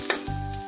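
Garlic fries in a pan for a moment with a steady close hiss and sizzle and a faint hum beneath, no voices.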